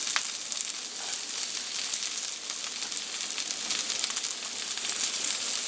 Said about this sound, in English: now we're ready to throw our celery and onions and peppers in